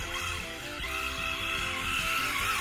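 Pinecone SG1603/SG1604 RC drift car skidding on its tires, a steady continuous hiss and squeal with motor whine running through the whole stretch, close and fairly loud, no talking.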